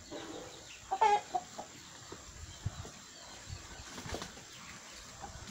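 Chicken clucking with a short flurry of wing flapping on a riverbank where a small monkey is being fed, a few soft clucks near and faint, outdoor background.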